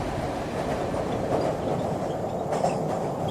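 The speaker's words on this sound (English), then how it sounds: "When the train stopped, I rushed to platform 1 and sure enough the Leeds train was there waiting." A train runs on rails with a steady rumbling roll and faint rhythmic clatter, continuous and fairly loud throughout, with no voices.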